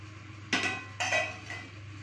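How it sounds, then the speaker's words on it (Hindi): Cubes of paneer drop into a pan of boiling gravy for dhaba-style paneer butter masala, making three clattering, splashy impacts about half a second apart over a steady low simmering hum, with no talking. "अब मैं इसमें पनीर को डालती हूँ।"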